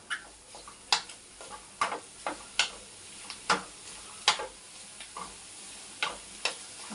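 Mushroom masala seasoned with turmeric and garam masala frying in a pan, a steady low sizzle broken by sharp, irregular clicks and taps of a spatula against the pan, close and alone.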